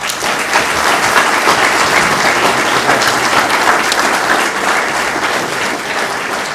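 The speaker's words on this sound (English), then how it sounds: "Please give a nice round of applause for Stephen." An audience at a scholarship awards ceremony gives a scholarship recipient sustained, even applause, a dense wash of many hands clapping at steady loudness throughout.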